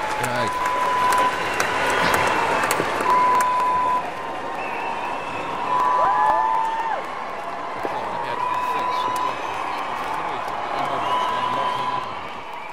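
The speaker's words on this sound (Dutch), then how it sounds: "Dat was een lang applaus" A crowd applauds at length with a dense, sustained clapping roar and scattered cheers, while a voice talks over the top throughout.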